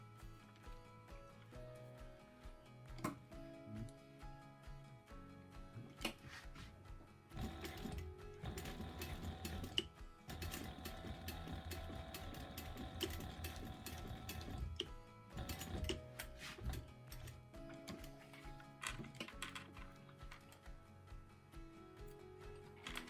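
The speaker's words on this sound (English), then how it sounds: "I just sewed a line." A sewing machine runs quietly while stitching a straight line across a fabric baby sling, a rapid mechanical patter that starts and stops among faint handling noises.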